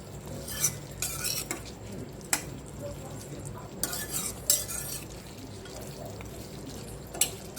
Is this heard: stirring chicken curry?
yes